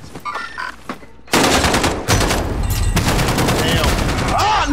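Automatic gunfire in Call of Duty: Modern Warfare, loud rapid bursts that start abruptly and continue densely, with faint speech and game sounds before the shooting begins.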